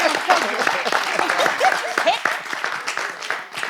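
An audience at a televised French debate show applauds, a short burst of clapping mixed with voices.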